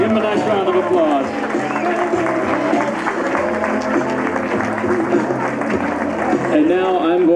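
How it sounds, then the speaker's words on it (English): Wedding guests give the newlyweds a sustained round of applause, a dense, loud wash of clapping and crowd noise with voices calling out throughout. "Give them a nice round of applause."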